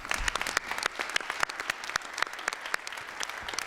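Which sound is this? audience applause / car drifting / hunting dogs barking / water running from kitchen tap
audience applause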